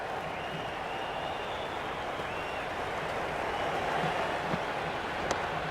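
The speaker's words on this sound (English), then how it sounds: "the excitement emanating from this crowd at the moment" A stadium crowd in the video game Cricket 26 keeps up a steady, dense wash of applause and cheering during a Brisbane Heat versus Melbourne Stars match, with a few faint tones and a brief click near the end.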